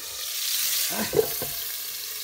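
Pieces of sturgeon fry in a pan, giving a soft, steady sizzle close by with a brief clink partway through and no voices.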